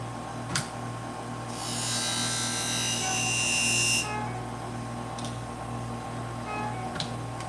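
Surgical scissors, curved on the back, are sharpened on a powered sharpening machine: a steady buzzing, grinding whine runs for a few seconds, close and fairly loud, framed by a few faint clicks and quiet background.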